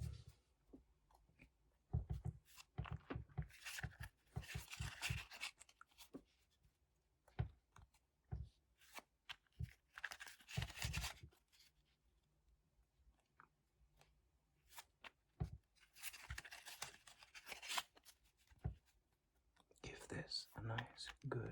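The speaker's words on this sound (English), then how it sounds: "This a nice, good shuffle, or as good as I can at least." Playing cards shuffled by hand during a quiet poker game, coming in short bursts of riffling and soft clicks separated by near silence, close and gentle, with faint low speech between.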